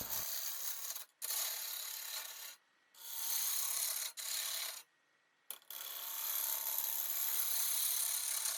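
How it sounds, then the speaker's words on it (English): A 5/8 inch bowl gouge roughs out a pine burl bowl on a wood lathe, making a loud, steady rasping hiss in long sustained passes broken by a few short pauses. "I'm going to use a 5/8 inch bowl gouge just to start the roughing process"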